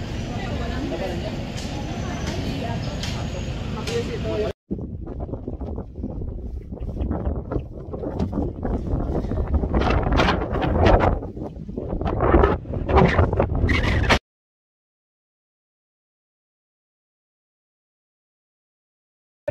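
Strong wind buffets the microphone on Mt Timbak, a roaring gust that cuts off, then rough rumbling wind continues under a person talking before going silent.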